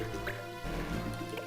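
A water ability in Final Fantasy Tactics Advance plays as a quiet liquid effect, soft gurgles and drips bubbling over a low sustained tone.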